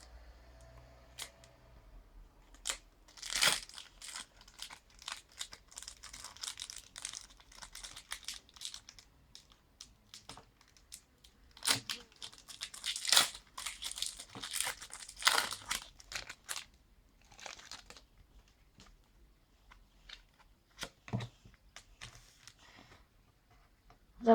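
Panini FIFA World Cup Brazil 2014 sticker packets being torn open one after another, a run of close, sharp crinkling and ripping of foil wrappers in irregular bursts with quiet handling between.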